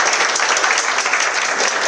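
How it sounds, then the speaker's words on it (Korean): Studio audience applause welcoming a gimbal specialist director onto a Korean camera-gear presentation stage for the Zhiyun Weebill 3: a dense, steady wash of clapping, loud and close, with no pauses for the full two seconds. "여러분들 큰 박수로 맞이해 주세요."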